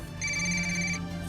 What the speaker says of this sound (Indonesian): Aduh, siapa lagi yang telepon nih?